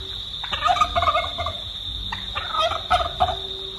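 Turkeys gobble in two rattling bursts over a steady high drone of crickets, with a quieter pause between them.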